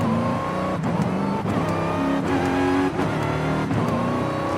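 In Forza Horizon 5, a Dodge Hellcat revs hard with a steady supercharger whine over the engine roar, broken by several quick gearshifts that briefly cut the sound before it climbs again.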